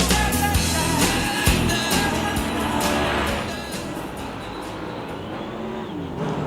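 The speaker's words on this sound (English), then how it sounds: "Another run on track for half a dozen of these cars." NZ Superstock race cars run on track during practice, engines roaring close by with sharp bursts and passing surges that then ease into a lower, more distant drone.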